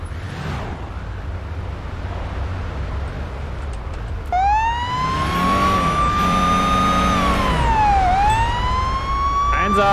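A police car siren in Police Simulator: Patrol Officers starts up partway through, wailing and sweeping up and down loudly over a rumbling engine.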